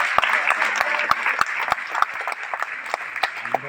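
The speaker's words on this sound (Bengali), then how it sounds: "একটা জোরে হাততালি।" An audience at a film screening applauds the movie's hero, actor Indranil Sengupta, with steady clapping and several sharp, close claps standing out, while a voice speaks over the applause.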